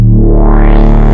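A thick, loud synth bass note from Logic Pro X with six stacked unison voices, slightly detuned and buzzing, sustained for about a second.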